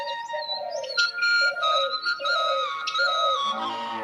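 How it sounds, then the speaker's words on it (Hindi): A kuketi bird calls repeatedly in clear, whistled notes, some sliding and some held, fairly close, with no talking, just after rain. "अभी मैं आपको एक चिड़िया की आवाज़ सुनाती हूँ। इसको बोलते हैं कुकेती चिड़िया।"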